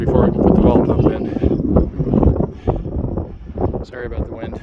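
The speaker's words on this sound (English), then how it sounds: "Sorry about the wind." Heavy wind buffeting the microphone outdoors at a construction site with under-slab plumbing roughed in, a continuous loud rumbling roar that masks a voice speaking beneath it.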